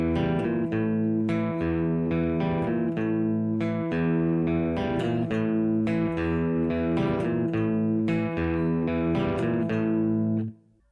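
A clean electric guitar plays a repeating riff of picked notes and sustained tones, looping steadily before cutting off at the end.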